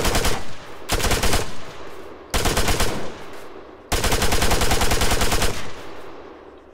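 Rifle fire in the military video game ArmA 3, a full magazine emptied in rapid bursts of loud, closely spaced shots, three long strings separated by brief pauses.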